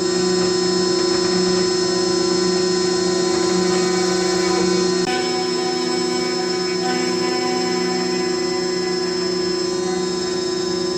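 A CNC milling spindle cutting on a 4th rotary axis whines steadily and loudly, with a sustained tonal hum and machining noise throughout, shifting slightly midway.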